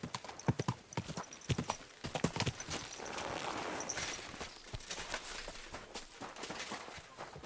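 Horse hooves walking in the video game Kingdom Come Deliverance 2, a steady, moderately close clip-clop rhythm that continues throughout over faint background ambience.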